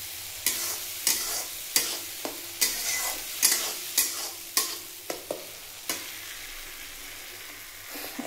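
Egg curry with tomato puree frying in a pan while a spoon stirs it: a steady sizzle under roughly a dozen evenly spaced scraping strokes, close up, with no voices.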